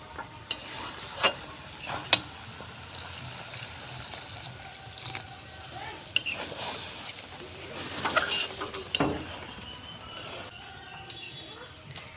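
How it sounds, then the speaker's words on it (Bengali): Moong dal and ash gourd curry is stirred in a pan after water is added, giving soft scraping strokes with a few sharper clinks over a quiet, wet simmer. "জল দেওয়ার পরে একটু নাড়াচাড়া করে দিচ্ছি"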